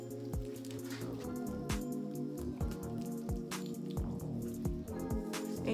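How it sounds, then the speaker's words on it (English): Wet hands work face cleanser into a lather, giving soft, rhythmic squelching and sticky squishes at close range, repeating about twice a second with no talking. "And then just suds that baby up."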